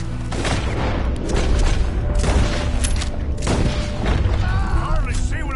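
Gunfire in Red Dead Redemption 2 during a night firefight, heavy booming shots landing every second or so with echoing tails, loud and close, while voices talk in between.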